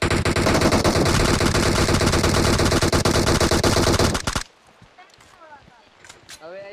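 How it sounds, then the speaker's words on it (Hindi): Rapid automatic gunfire rattles loudly in PUBG Mobile for about four seconds, a dense burst of shots that cuts off abruptly, followed by quieter game sounds and faint chatter. "गोली चली ये रहा।"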